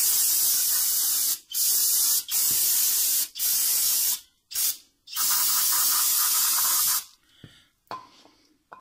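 A spray wash-down of Toyota Camry front brakes during a pad and rotor job gives long, loud, close hissing bursts separated by short pauses, then a few brief weaker sprays at the end.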